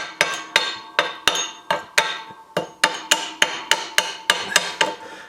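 Rust chunks are hammered off an old pipe vise found out in the woods, a run of about fifteen sharp, ringing metallic strikes at a steady, brisk pace close by.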